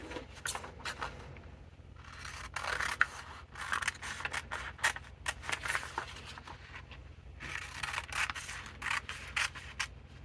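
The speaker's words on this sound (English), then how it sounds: "I find it a whole heck of a lot easier to cut the dart out of the paper" Scissors snip and slide through a paper sewing pattern as a dart is cut out. The cuts come in quick, uneven bursts of crisp crunching, close up, with brief pauses between them.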